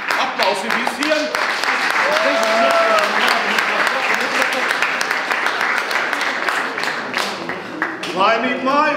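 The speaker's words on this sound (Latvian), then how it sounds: "Aplausi visiem." Loud, sustained applause from a school event audience in Latvia, steady clapping filling the whole stretch with a brief swell near the end.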